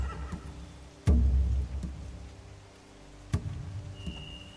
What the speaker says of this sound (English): They have horses.